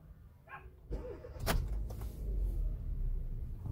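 A car engine cranks, catches briefly and dies with GPS jamming equipment running nearby; a short whirring crank, a sharp burst, then a low uneven rumble that fades out, close by with no talk.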